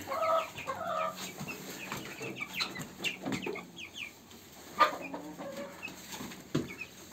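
Broiler chickens cluck and murmur in scattered, soft calls, several birds close by against a quiet background.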